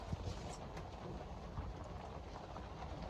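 Rain falling over an allotment with a shed, a steady faint hiss of drops on surfaces with a few soft patters, no talk.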